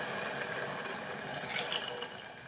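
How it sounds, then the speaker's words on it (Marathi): Hot water pours into rice in a cooking pot, making a continuous close splashing, gurgling stream that stays steady and eases slightly near the end. "2 वाटी आपण गरम पाणी घालत आहोत।"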